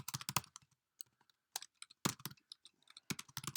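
Someone types a message on a computer keyboard, producing quick, uneven bursts of close key clicks separated by short pauses, quiet and alone.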